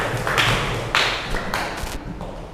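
A classroom of students gives a short round of clapping, with a few loud, uneven claps and thumps that thin out and fade toward the end.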